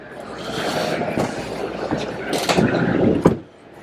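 An electric van's sliding door rumbles along its track and thuds shut near the end, close and loud, at a commercial vehicle show.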